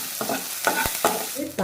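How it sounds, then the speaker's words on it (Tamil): Onions and curry leaves sautéing in a pan, short bursts of sizzling and stirring scrapes in a quick irregular rhythm, close and with no talking. "வெங்காயம் எல்லாத்தையும் போட்டு நல்லா வதக்கி எடுத்துக்கலாம்."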